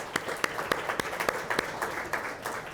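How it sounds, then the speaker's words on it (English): An audience applauds at an event with a film producer, a moderately loud, continuous patter of many hands with sharper individual claps standing out. "Well, round of applause for Cary."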